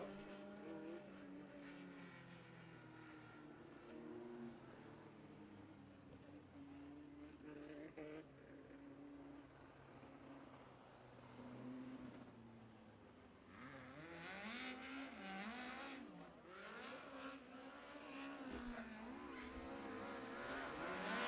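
Race cars running on the asphalt speedway at Kern Raceway in Bakersfield during a USAC event, engine drone rising and falling as cars pass, heard at a distance beneath a steady crowd and ambient wash.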